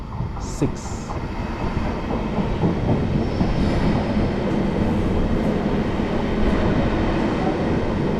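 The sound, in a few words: train at station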